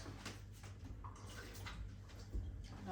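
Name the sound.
water being poured into an Instant Pot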